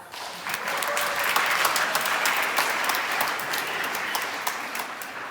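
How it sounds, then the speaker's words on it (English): A school band concert audience applauds the students' parents, producing a dense, sustained wash of clapping from a large crowd that holds steady for the whole stretch. "Students, please give your parents a big round of applause."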